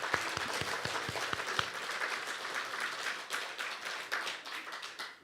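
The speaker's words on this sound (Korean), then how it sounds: "우리 재호를 위해서 박수를 좀" A church congregation claps for a young flute player joining the ensemble, a few crisp individual claps at first swelling into steady, moderately distant applause that carries on evenly to the end.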